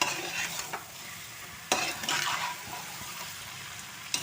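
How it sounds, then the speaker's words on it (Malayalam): Pork roast is stirred over a raised flame, a close, continuous sizzle with a few sharp clatters and scrapes of the spoon against the pan, with no talking. "ഇനി നല്ല പോലെ ഇത് ഇളക്കി കൊടുക്കാം."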